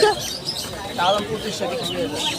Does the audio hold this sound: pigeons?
yes